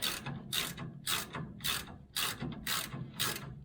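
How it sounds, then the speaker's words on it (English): A hand ratchet loosens brake caliper bolts on a 1965 Chevy El Camino, giving a close, steady series of about seven rapid clicking bursts in an even back-and-forth rhythm, with no talking. "we're going to take the caliper bolts out"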